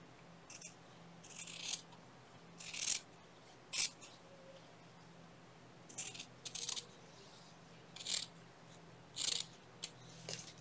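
Scissors snip freehand through paper in a quiet room, several short crisp cuts arriving in uneven bursts with pauses between them.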